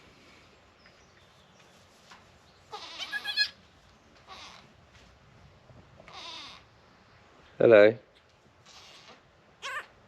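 Newborn goat kids in the dirtiest corner of a barn, just born to an escaped nanny goat, give several short, high bleats at irregular intervals, a couple of them loud and close, with a person speaking briefly in between.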